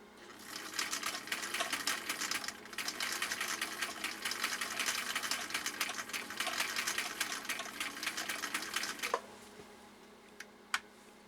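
A 1959 Husqvarna Viking CI-21A sewing machine zigzag stitches through three layers of compressed felt, a rapid steady chatter running for about nine seconds, then stopping with a couple of sharp clicks.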